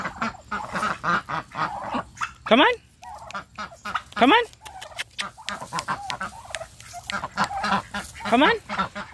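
Turkeys and ducks raised together call out while being herded across a yard, gobbles and honking quacks rising in bursts between repeated shouted urging from a nearby person.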